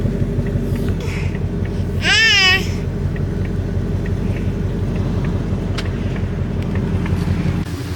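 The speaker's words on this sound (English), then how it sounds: "the lights are on, but the car is running extremely lean for whatever reason" A 2024 Ford Mustang GT engine idles as a steady low rumble, close and continuous. A short whistling, warbling tone rises above it around the two-second mark, and there is faint background noise.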